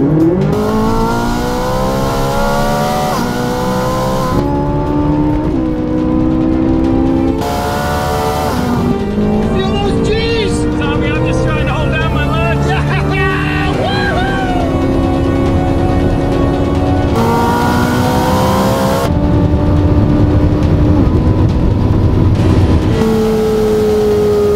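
Engine revving up to speed, a loud continuous roar whose pitch climbs repeatedly through rising sweeps, with changing gears and surges throughout.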